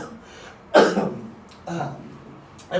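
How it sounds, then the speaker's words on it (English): A person with a really bad cough lets out three harsh, raspy bursts, near and loud, with quiet pauses between them. "I have this like really bad cough."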